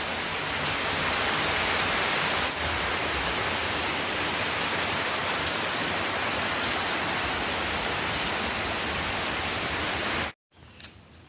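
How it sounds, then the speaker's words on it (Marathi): Steady, heavy rain pours down continuously, a dense even hiss that stops abruptly near the end. "किती दिवसात ना पाऊस आज आलेला आहे"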